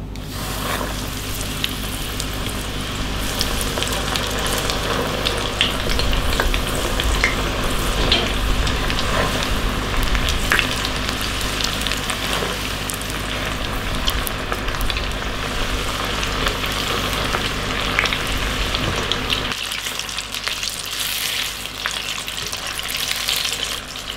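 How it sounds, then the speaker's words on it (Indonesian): Food deep frying in hot oil gives a steady, loud sizzle and crackle that runs unbroken throughout, with faint stirring and water-like noises mixed in and no talking. "Kita langsung goreng."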